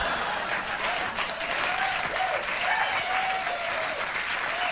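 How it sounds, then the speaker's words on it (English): A television studio audience applauds continuously, a thick, even roar of clapping that holds steady throughout with little variation. "people applauding a horrible"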